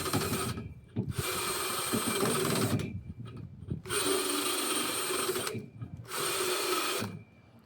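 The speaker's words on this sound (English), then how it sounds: "it's just kind of rounding out the inside of that, kind of grinding off any kind of loose areas in there" An EZARC AlCrN carbide rotary burr bit grinds the inside of a metal pipe in three long, loud rasping bursts, with short pauses between them.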